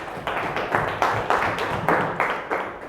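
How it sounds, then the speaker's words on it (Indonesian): Schoolchildren in a classroom clap for a classmate in a close, rhythmic pattern, about a dozen sharp bursts of hands beating together at a quick, regular pace with no talking. "boleh tepuk tangan untuk temannya tadi"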